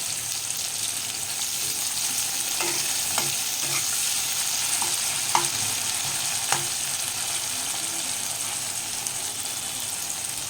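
Onion with a half spoon of salt frying in oil, a steady close hiss of sizzling broken by several sharp scrapes of a spoon stirring the pan, no voices.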